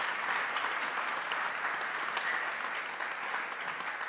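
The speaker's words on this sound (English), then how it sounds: "I actually want another round of applause maybe for all the Indigenous leaders in the room currently." An audience at a research and policy conference plenary gives a round of applause for Indigenous leaders, sustained dense clapping from many people in a large room, even in loudness across the whole stretch with no voices above it.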